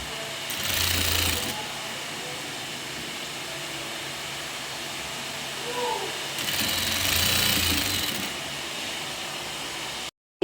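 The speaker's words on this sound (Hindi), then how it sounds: "अब इसको हम सिलाई करते जाएंगे।" A sewing machine stitches a suit at home, running in two short bursts of steady mechanical whir separated by a quieter stretch of low room noise.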